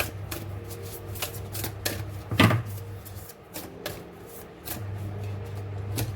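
Tarot cards shuffled and drawn by hand in a series of crisp riffling flicks and slaps, close and fairly quiet, over a steady low hum, with one louder burst midway.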